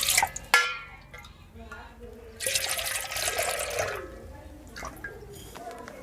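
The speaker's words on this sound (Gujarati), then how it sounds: "પાણી નાખશું આમાં" Water poured into a cooking pot for Kathiyawadi cauliflower dhokli shaak: a rushing splash of about a second and a half, with scattered utensil knocks and drips before and after.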